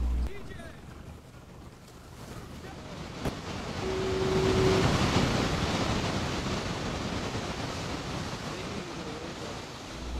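Ocean surf roars in a broad, continuous wash, swelling louder midway as waves break, with wind buffeting in the background.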